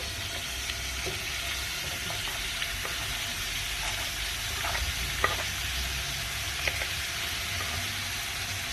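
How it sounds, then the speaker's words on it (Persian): Ground meat fries in oil in a pan, giving an even, moderate sizzle with faint spatula scrapes and a couple of sharper clicks. "حالا گوشت چرخ کرده رو به روغن اضافه کنیم"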